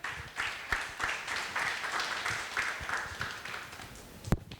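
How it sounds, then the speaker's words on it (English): A crowd at a business seminar claps together in steady, moderately loud applause that carries on for several seconds, ending with one sharper knock. "So please give an applause to all the sponsors."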